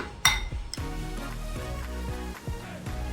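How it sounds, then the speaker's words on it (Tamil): Spoon clinking and scraping in a bowl while paneer sandwich filling is mixed with masala, a close run of light metallic taps and knocks in an irregular rhythm. "இது எல்லாத்தையும் நல்லா மிக்ஸ் பண்ணிடலாம் மசாலாவோட"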